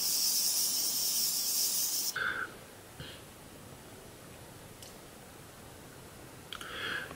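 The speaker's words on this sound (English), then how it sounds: "Ooh, off the bat, the spray feels very fine." A close, loud hiss of fine makeup setting spray lasts about two seconds, followed by quiet room tone and a short second spritz near the end.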